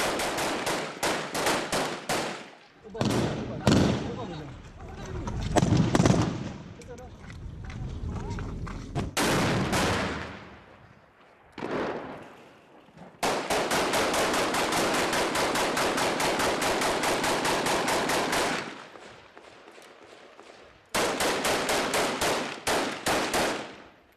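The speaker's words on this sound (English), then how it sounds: "The Kurds throw everything they have at the gunmen. IS return fire." Sustained automatic gunfire and rifle volleys trade back and forth in the urban battle for Raqqa, Syria, Kurdish fighters against IS gunmen; loud, dense bursts come in long rattling runs broken by short pauses and scattered single shots.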